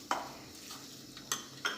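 Amaranth popcorn is stirred into disco vada batter, giving a few faint, scattered spoon clicks and light scraping against a quiet background.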